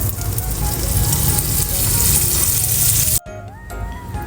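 Butter sizzling in a hot pan while making egg-coated bread, a loud, dense frying hiss that runs steadily and then cuts off abruptly, leaving a quieter tail with faint clinks.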